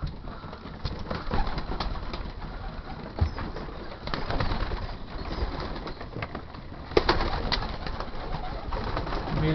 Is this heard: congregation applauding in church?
no